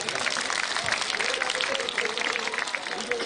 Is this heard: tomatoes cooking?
no